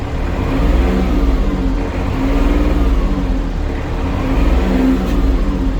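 Engine of an Iseki Geas 333 compact tractor with a cab revving up, a steady mid-pitched drone that rises and swells in a few waves, close and loud with no talking.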